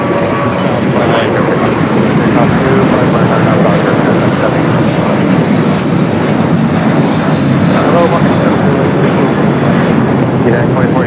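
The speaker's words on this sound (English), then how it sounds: "Get a close-up shot of the 75 just touching down here." A United Boeing 757-300 from Chicago O'Hare touches down at Los Angeles International, a loud, close, continuous jet roar filling the whole stretch with the high whine of the engines running throughout.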